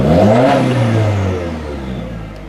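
A 2017 Subaru Forester's turbo engine revs loudly and its pitch sweeps up then falls away, a brief whooshing blow-off valve release riding over the fading rumble.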